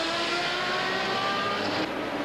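A Porsche 935 race car roars past during a race, a loud, continuous high-revving engine whine heard at a distance that cuts off abruptly near the end.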